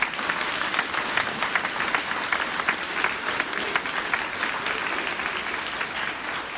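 Sustained audience applause at an elementary school groundbreaking ceremony in Brainerd, a dense, steady patter of many hands clapping fairly close, with faint voices underneath.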